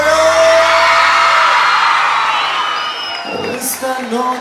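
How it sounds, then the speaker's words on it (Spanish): A crowd at a live concert screams and cheers loudly in a sustained roar of whoops and yells, with tonal singing-like voices in the mix that fade slightly before scattered shouts rise again. "entonces que esos gritos lleguen hasta el cielo."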